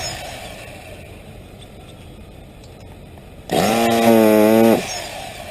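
A modified chainsaw engine with OBR/RCR mods rips into a loud, high-pitched rev about two-thirds of the way in. It holds for just over a second and drops away, with a quiet idle-like hum before it.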